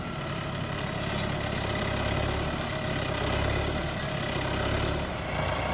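A tractor engine runs steadily and loudly throughout, a continuous low rumble with no breaks, while it strains to pull a tree out of the ground with chains.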